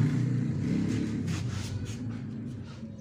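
A Yamaha Jupiter MX motorcycle engine with its spark plug removed is turned over, a continuous close low rumbling churn that slowly eases off over a few seconds.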